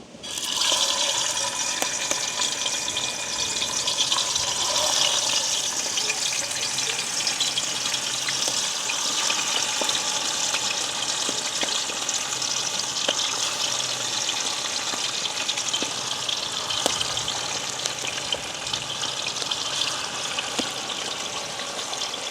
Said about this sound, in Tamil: நாங்கள் உப்பு மஞ்சள் எல்லாம் பிரட்டி வச்சுருக்கிற மீனை வந்து பொரிக்கிறதுக்காக போடுவோம்